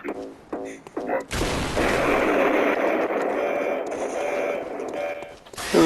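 A large explosion in a video game erupts after brief talk, a loud sustained roaring blast with rumbling debris that fills several seconds before cutting off.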